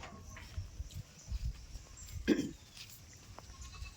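A goat gives a single short bleat partway through, mid-distance, with faint background rustle and low murmur around it.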